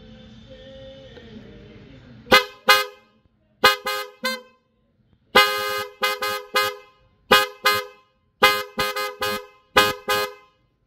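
A Korsa version 3 60G aftermarket horn blasts in short, loud, close honks, singly and in quick double and triple bursts separated by silence, after a brief low background hum.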